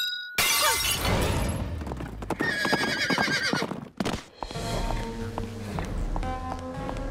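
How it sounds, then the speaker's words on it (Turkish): A 2000-year-old statue breaks in a cartoon scene, heard as a loud shattering crash with crumbling debris, mixed with a horse whinny and clip-clop hooves. "Bugün 2000 yıllık bir heykel kırıldı."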